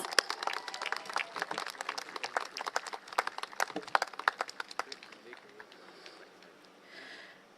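Applause from an audience at an outdoor election rally for a Singapore general election: scattered claps, moderately loud, fading toward the end, with crowd noise underneath.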